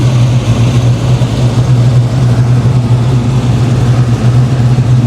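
A 1987 Monte Carlo SS runs steadily, its engine giving a loud, even low hum with a constant droning tone and no revving changes, heard up close with no speech.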